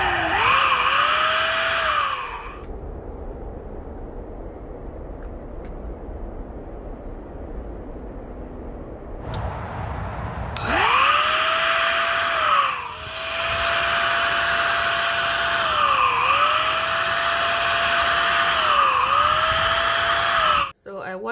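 A Wesco cordless, battery-powered paint sprayer gun whirs with a loud, steady high motor whine that starts briefly, stops for several seconds, then runs again at length with slight dips in pitch.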